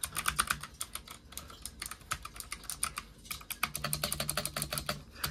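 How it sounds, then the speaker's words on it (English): Fast typing on a Razer Huntsman Mini keyboard with purple clicky switches gives a dense, close patter of sharp clicks with a slight springy ring, heard alone. "We have the Razer Huntsman Mini with the purple clicky switches."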